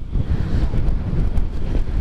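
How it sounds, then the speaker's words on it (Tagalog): Strong gusting wind roaring and buffeting the microphone during a motorcycle ride at Malico, San Nicolas, a loud, continuous low rumble with no other sounds. "Grabe, ang lakas ng hangin mga ka-take care."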